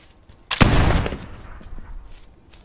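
Musket volley from soldiers in the Prime & Load game, a sharp loud burst of overlapping shots that crackles and rolls off into a fading echo, standing alone.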